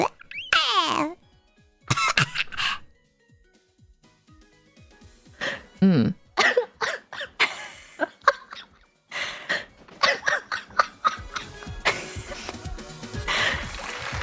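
A person imitates a baby coughing in a contest: short wheezy coughs, gasps and breathy squeaks come in irregular bursts with quiet gaps, close and fairly loud, mixed with other voices.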